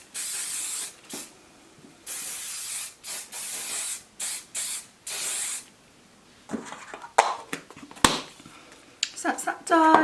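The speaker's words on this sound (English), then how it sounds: "So I'm just going to give this a spray." Hairspray hisses onto hair in a series of short and longer bursts, close and crisp, separated by pauses, followed by softer rustling and handling noises as the hair is touched.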